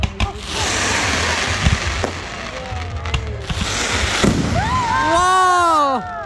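Fireworks burst over Loch Sport in a steady run of booms and crackles, loud and close, while excited voices and whistling calls rise near the end.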